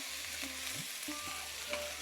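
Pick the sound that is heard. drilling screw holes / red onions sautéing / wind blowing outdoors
red onions sautéing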